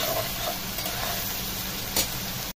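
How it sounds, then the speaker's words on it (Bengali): Onions fry in a pan on a clay stove, giving a close, continuous sizzle with stirring noise for a few seconds before cutting off abruptly, with no speech. "তো পেঁয়াজটা ভেজে নিচ্ছি"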